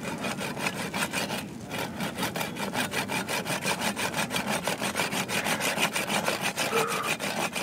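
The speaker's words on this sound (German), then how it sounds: "ein letztes Ansetzen der Säge am verbliebenen Geäst" A hand saw cuts through reindeer antler in a steady back-and-forth rhythm, close and continuous, with rasping strokes repeating evenly throughout during herding work on Kamchatka.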